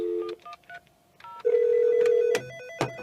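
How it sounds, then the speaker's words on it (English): A Nortel Meridian 9417 digital desk phone rings with an incoming call: sharp electronic tones with stepped pitch changes, then a long sustained tone and a few short bursts. It is close and clear, with no talk. "Let's actually make a call to one of these phones."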